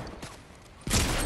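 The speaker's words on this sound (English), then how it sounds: "Somebody else is shooting." Gunfire in the Fortnite video game erupts as a loud, sustained burst of shots near the end, after a quieter stretch of faint game noise.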